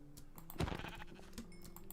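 A single sheep bleats in Minecraft, a short nasal baa at moderate level over quiet background hum and faint keyboard tapping.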